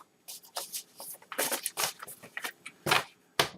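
Cards are shuffled in quick bursts of riffling and flapping, irregular and close, with short pauses between rapid papery snaps.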